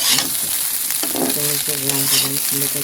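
An egg frying in a pan with very little oil gives a steady, close sizzle throughout, with brief tonal hums and clinks breaking in partway.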